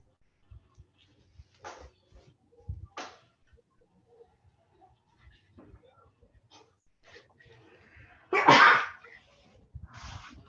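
One loud sneeze stands out near the end, amid a quiet lecture classroom with soft shuffling, a few faint voices and small noises.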